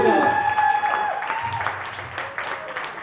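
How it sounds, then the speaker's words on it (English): A poetry slam audience at Yellow Cab Tavern claps and cheers in a lively round of applause, with a voice talking over it. "I need to show a big round of applause and appreciation for Yellow Cab Tavern"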